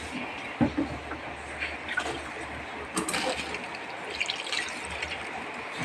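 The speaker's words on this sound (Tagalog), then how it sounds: "Kaya lagyan natin siya sa tubig." Water pours steadily into a container with a continuous splashing hiss, fairly quiet, with a few clinks and knocks along the way.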